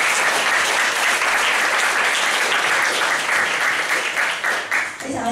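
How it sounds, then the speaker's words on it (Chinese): An audience gives a speaker a warm welcome with loud, continuous applause from a roomful of people, steady for several seconds before thinning out near the end. "热烈掌声欢迎花一峰老师"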